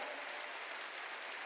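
A church congregation applauding during a sermon, a dense, steady wash of many hands clapping together that fills the whole moment without pause.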